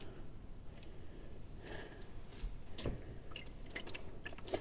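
Makeup brushes are worked in soapy water, giving quiet, close wet squishes and little bubbly clicks and drips in irregular bursts.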